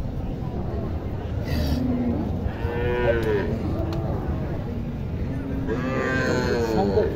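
Cows low repeatedly at a busy cattle market in Naogaon, including a dark reddish local cow with its calf, the drawn-out moos rising over crowd chatter and a steady background murmur.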